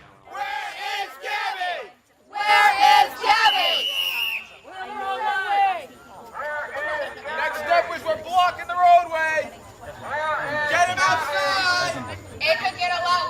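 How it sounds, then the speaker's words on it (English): Loud protesting crowd chanting and shouting in bursts, many voices rising and falling together with short gaps between chants, close and energetic. "I don't think anything is going to hush this crowd."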